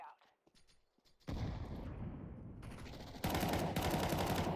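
Gunfire in the Counter-Strike 2 video game: after a quiet start with faint clicks, a dense loud burst of rapid shots and explosions takes over and grows louder toward the end.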